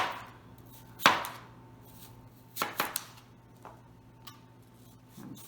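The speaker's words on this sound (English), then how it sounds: "You notice I'm cutting it into pretty thin slices." A knife slices a Cosmic Crisp apple into thin pieces on a board, giving a few sharp, close chops spaced out over a quiet background, with no one speaking.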